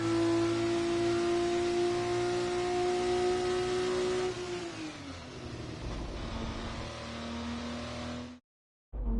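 A Prema racing car pulls into parc fermé after a race, its engine running steadily with a sustained tonal hum that drops in pitch midway, then cuts out briefly near the end.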